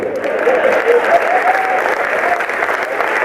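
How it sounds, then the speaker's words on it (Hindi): A crowd at a Haryanvi comedy show applauds, producing loud, dense and continuous clapping that holds steady for the full few seconds. "7-8 लोगों ने ताली बजाई है"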